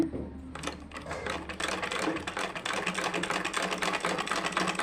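A sewing machine stitches along a line during a basic tailoring lesson, a fast steady mechanical rattle that runs continuously at close range after a brief start, with no talking.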